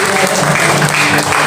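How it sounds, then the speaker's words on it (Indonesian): A church congregation gathered for worship in an apartment claps in dense, sustained applause, with voices mixed in under the clapping. "Berikan tepuk tangan bagi Dia."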